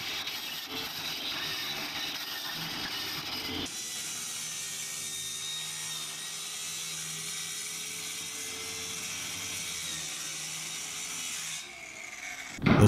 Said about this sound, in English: For this I use a immersion saw with a metal cutting blade.